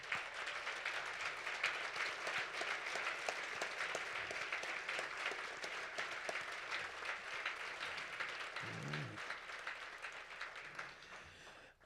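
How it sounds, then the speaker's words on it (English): Sustained applause from a crowd at a trophy presentation ceremony, steady dense clapping throughout that tapers off near the end. "we would like the family and friends of the awardees to stand so we can applaud you"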